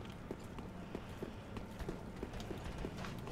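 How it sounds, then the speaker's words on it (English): Footsteps of an enemy approaching from behind the player in Dark Souls 3's Cathedral of the Deep: a steady, soft, regular patter of steps under a continuous game ambience, moderately faint and evenly paced. "Oh, I can hear footsteps behind us."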